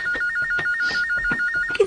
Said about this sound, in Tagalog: Ang telepono din sa sala.